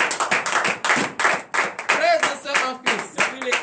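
A congregation claps during a morning prayer service in Benin, with rhythmic, loud group handclaps in steady bursts while someone speaks and sings over them, close and lively.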